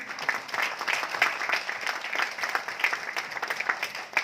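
Loud, steady applause from an audience at a leadership training session on direct selling, a dense wash of clapping that holds for several seconds without pause.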